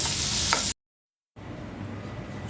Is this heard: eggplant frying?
yes